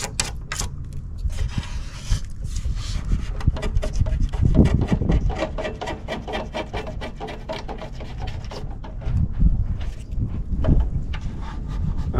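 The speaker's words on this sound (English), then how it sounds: "Sand it down a little more." Paint being sanded off the body of a Chevy box convertible, a raggedy patina project: steady close scratchy rubbing strokes run continuously, with a brief louder hiss-like pass mid-way, and no talking.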